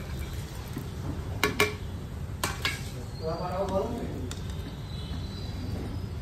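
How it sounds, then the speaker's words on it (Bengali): Flattened rice pulao with fried nuts, cashews and raisins being stirred in a pan: a spoon clinks and scrapes against the metal several times over a soft background, and a voice murmurs briefly partway through. "খুব সুন্দরভাবে নেড়ে চেড়ে নেব।"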